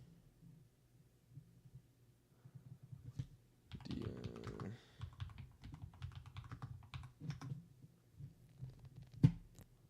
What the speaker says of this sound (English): I'm smacking this at this keyboard.